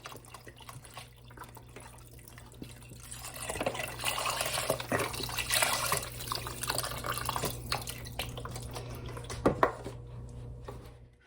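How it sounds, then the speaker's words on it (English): Eight cups of unsalted beef broth pour into a pot of melted butter for French onion soup, a steady splashing gurgle that swells and continues for several seconds, close and alone. "I'm going to add 8 cups of beef broth"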